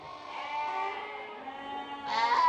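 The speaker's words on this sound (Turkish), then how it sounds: "bir aylık kuzular bunlar." One-month-old lambs on a farm bleat in a few close, wavering calls that overlap, with a louder cry near the end and no talk.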